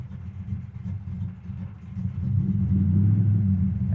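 A 1969 Chevelle SS V8 idles while still relatively cold, a steady low rumble with an uneven lope that swells a little louder toward the end, with no voices.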